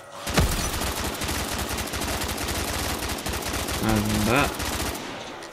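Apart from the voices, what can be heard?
gunfire in Black Ops 3 custom zombies map video game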